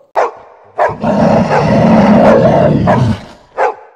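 Dogs bark loudly and close, produced as an audio drama sound effect: sharp separate barks at the start and end around a sustained, snarling burst of barking in the middle.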